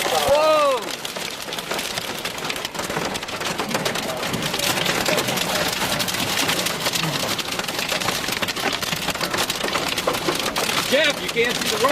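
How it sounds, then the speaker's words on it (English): Large hail pounds a storm chasers' vehicle in a dense, continuous clatter of impacts that holds steady and loud throughout, with brief shouted voices near the start and again toward the end. "Hail too big."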